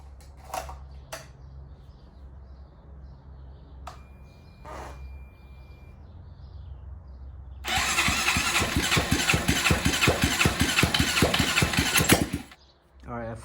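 A Honda Grom motorcycle engine fires for its first start with no exhaust fitted, cranking briefly then settling into a loud, rapid, rattling idle for several seconds before cutting off; a crow caws faintly beforehand.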